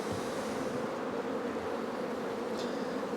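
Honey bees buzz inside a crowded beehive, a dense, steady drone close to the microphone with a brief higher whine from a single bee passing near the end.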